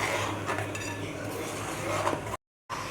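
Pineapple puree being stirred into boiling water in a pot for pineapple sago payasam, with a spoon scraping and clinking against the metal pot, steady and close, followed by a brief dropout near the end.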